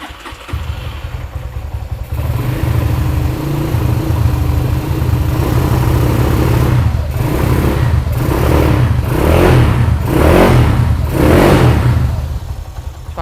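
Honda CB100 motorcycle upgraded to a 250cc engine idles with a steady throb, then revs repeatedly in about five rising bursts, loud and close, no talking.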